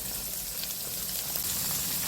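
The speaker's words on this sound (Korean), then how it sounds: "참기름을 넉넉히 두른 냄비에 콩나물과 약간의 소금을 넣고 뚜껑을 닫은 채로 가열해요" Bean sprouts with a little salt heating in a lidded pot generously coated with sesame oil give a steady, even sizzle and frying hiss at close range, with no talking.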